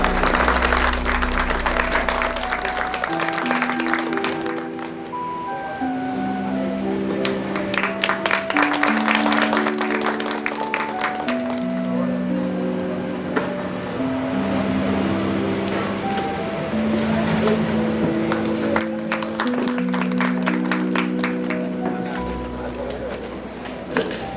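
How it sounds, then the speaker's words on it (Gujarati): Audience applause at a retirement farewell function at Anand Press, a sustained patter of clapping that runs under steady music with melodic notes, fading slightly in the middle before swelling again. "તાળીઓથી વધાવી લઈશું આપણે બધા"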